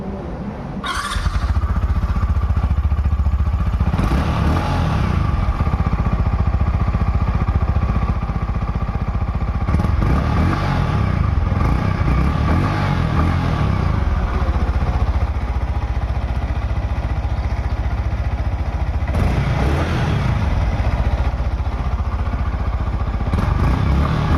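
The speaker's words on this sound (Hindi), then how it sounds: "और अब मैं आपको सुनाता हूँ इस बाइक का एडजॉस्ट नोट।" Yamaha R15 M motorcycle with a 155cc engine, its exhaust note droning loud and steady throughout, with a few swells of revving around the middle and later on; no talking.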